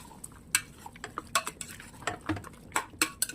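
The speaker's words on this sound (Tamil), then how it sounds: "பன்னீர் உடையாமல் பார்த்து இப்படி பரட்டி பரட்டி போடுறோம்" Paneer and masala being stirred and sautéed in a pan for a mushroom paneer biryani, with an irregular series of close metallic scrapes and clinks of a spoon against the pan and no talking.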